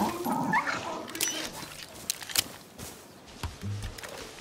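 A dog in the video game Far Cry 6 gives short yips and whimpers over game background noise, with a few sharp bursts in the middle and a low growl near the end.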